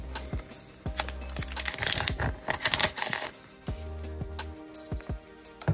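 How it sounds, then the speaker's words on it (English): Packaging for the Vivo X80 phone is unwrapped by hand, giving close crinkling and rustling with sharp taps and clicks in irregular bursts. "Let me unwrap."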